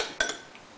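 Ratatouille ingredients dressed with olive oil, balsamic vinegar and herbs being stirred in a pot: a brief spoon clink or two against the pot, quick and close.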